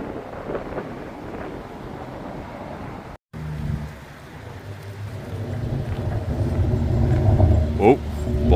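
A boy racer's car passes close by on a street, its engine roar building from a low rumble to a loud, sustained pass over steady outdoor wind noise after a brief dropout.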